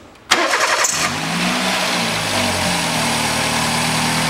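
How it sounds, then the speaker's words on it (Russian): A Toyota Vitz SCP10 from 2000 with automatic transmission cranks briefly and fires up, then settles into a steady, close idle that holds alone without talk. "Заводим автомобиль."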